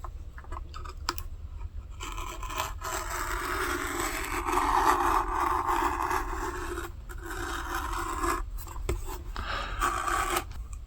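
A knife cutting a strip from a piece of leather for a custom prybar, giving a long continuous rasping drag that swells and eases, with short pauses and a few small knocks, close and steady.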